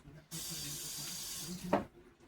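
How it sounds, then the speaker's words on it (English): A water tap suddenly turned on in a shower, giving a steady rushing hiss of running water. A brief louder splash or spray sounds near the end before the flow drops away, fairly faint overall. "Cut the water on, as I usually do."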